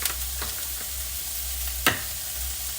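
Four eggs frying in a pan for a low-carb frittata, a steady close sizzle with a sharp crackle near the end and no talking.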